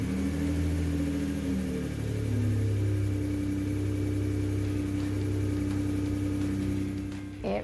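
A 2016 Ford F150 with the 3.5 engine idles steadily after a valve cover repair, a close, even mechanical rumble with a faint whir that holds throughout, dipping slightly near the end, with no voices.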